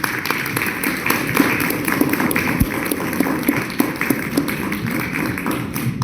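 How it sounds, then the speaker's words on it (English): Lecture audience gives a warm, sustained round of applause, turning into a standing ovation: a thick wash of many hands clapping at an even, moderately loud level for several seconds. "give a warm applause to Damien Gachou and to have a standing ovation"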